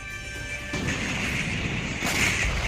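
A Russian T-80 tank is hit in a war-zone attack, giving a heavy boom and a rolling, crackling blast. It sounds distant and muffled, and a second burst comes as the first fades.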